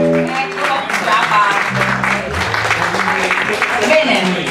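Audience applause at a live jam night presenting a guitarist, a dense wash of clapping that carries on steadily, with a voice talking over it and a low tone sounding in the middle.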